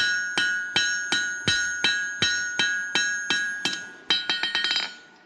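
A hammer strikes a wrought iron bar on an anvil to form a scarf for forge welding: about a dozen loud ringing blows at an even pace, ending in a quick burst of lighter taps.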